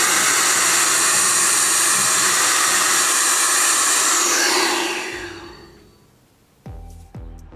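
A KiCA Jet Fan Max blower with a vacuum attachment runs with a loud, steady airy whoosh, then spins down and fades, followed by a couple of short clicks and knocks close by.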